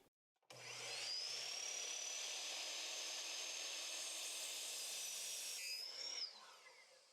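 A miter saw whines up and slices through a wooden board in one sustained cut, a steady high-pitched buzz lasting several seconds before the blade spins down, heard close with no talking.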